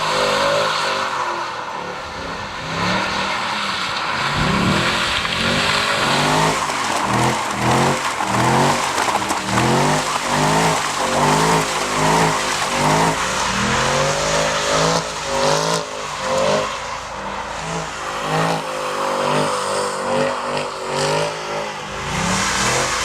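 A 2014 Chevrolet SS roars through its exhaust, revving hard and accelerating in loud, continuous waves, with brief tire squeal. The engine note stays close and dominant throughout, and no one speaks.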